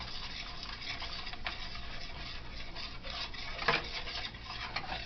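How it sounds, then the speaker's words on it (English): Gravy being stirred in a pot for a copycat KFC brown gravy, a soft continuous scraping swirl with a spoon, close and steady, with one brighter clink of the utensil against the pot partway through. "I'm going to stir this bad boy"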